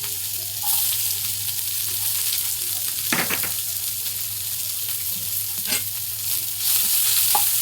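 Green chillies frying with chopped onion and mustard seeds in hot oil, a constant bright sizzle nearby, broken by a few scraping stirs of a spatula in the pan.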